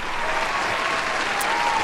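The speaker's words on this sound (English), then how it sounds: "Go ahead and give me a round of applause." A short burst of crowd applause used as a sound effect in the game Getting Over It with Bennett Foddy: steady, loud clapping that holds at an even level for about two seconds, with no voices over it.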